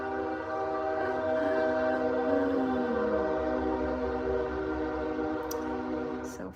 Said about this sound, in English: It will be hours before another train comes by sometime, but it always comes by when I start recording